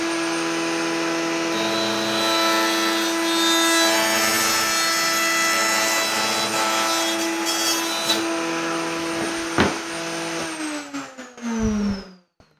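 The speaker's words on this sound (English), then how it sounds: "I'm just going to go ahead and flush route these." A handheld router flush-trims wood parts for a lathe station with a steady, loud, high motor whine and cutting rasp that runs continuously, then winds down and spins to a stop near the end.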